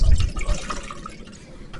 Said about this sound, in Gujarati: તપેલીમાં આપણે પાણી લઈએ